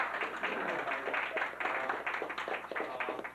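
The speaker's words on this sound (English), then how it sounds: "Let's give them a round of applause, please." Modest applause from a small gathering at a railroading history exhibit opening, irregular individual claps forming a light, uneven patter that stays fairly quiet throughout.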